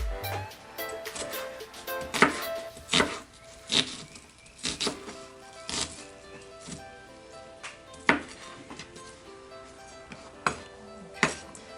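A knife dicing an onion on a cutting board, sharp irregular chops spaced out one by one, close and crisp in a quiet kitchen.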